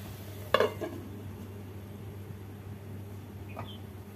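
Bottle gourd greens cooked with coconut and chickpeas get one sharp scrape of a spoon in the pan, followed by a faint low sizzle over a steady stove hum.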